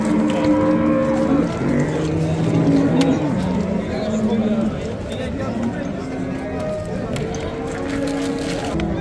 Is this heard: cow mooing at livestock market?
yes